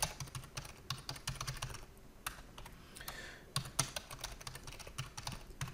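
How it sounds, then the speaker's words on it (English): Fingers tap rapidly on a computer keyboard while entering a domain and username, giving close, crisp clusters of key clicks in bursts with brief pauses and no talk. "you're going to have to type in your domain and username for this"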